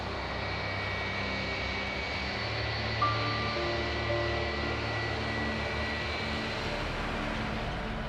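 A Flash Airlines Boeing 737-300 jet climbing away before dawn, a steady distant engine roar with a faint whine, unbroken and without voices.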